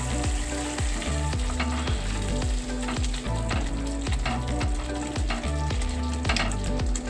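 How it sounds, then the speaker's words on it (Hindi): Potato and pea curry being stirred after salt is added, with a constant loud frying sizzle and repeated scraping stir strokes throughout, close-up and with no talking. "नमक डाल के अच्छे से चला देंगे इसको।"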